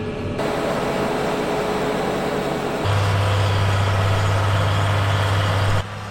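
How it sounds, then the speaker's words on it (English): A Fendt 930 tractor works a light sandy field with a steady, loud engine drone. The pitch deepens and strengthens midway, then holds even until it cuts off near the end. "The Fendt 930 is using the second machine, and on this light sandy soil the work rate is high"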